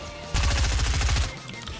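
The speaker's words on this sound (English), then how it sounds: "Oh god, they're shooting me." Fortnite gunfire rips out in a loud, rapid burst of closely spaced shots lasting about a second, then cuts off abruptly, leaving quieter game noise.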